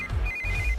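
A mobile phone ringtone signals an incoming call, a steady repeating electronic tone standing out clearly through most of the short moment, with low rumbling background underneath and no talking.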